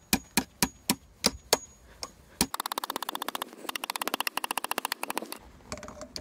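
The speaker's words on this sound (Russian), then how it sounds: "Хочу я его подолбать молоточком хорошенько." A small hammer tapping on a heavy insulated entry door being fitted in a private house: several sharp, evenly spaced knocks, then a rapid, dense run of quick taps, close and clear with no talk.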